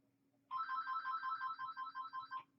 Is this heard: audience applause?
no